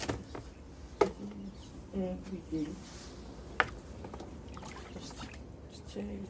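Homemade liquid fertilizer of weeds and leaves soaking in water being stirred, giving soft sloshing and a few knocks against the container, with a person talking over it.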